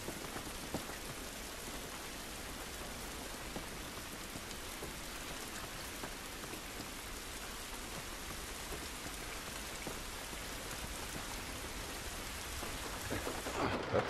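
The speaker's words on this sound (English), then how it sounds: "This rain ain't gonna do us any good." Steady rain pours outdoors in The Last of Us video game, a dense close patter of drops striking surfaces with a low rumble beneath, swelling slightly louder near the end.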